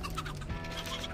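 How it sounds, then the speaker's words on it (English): A chicken in the Texas Chain Saw Massacre video game clucks in a few quick, close, clear bursts with no talk over them. "Oh, no, dude, the chicken's loud"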